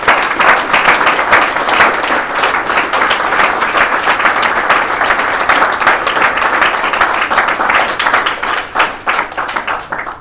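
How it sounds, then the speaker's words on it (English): Loud, sustained round of audience applause in a room at a startup presentation event honoring program donors, dense steady clapping lasting about ten seconds and tapering slightly at the end, with no talk over it. "I do want to give them a round of applause for financial support"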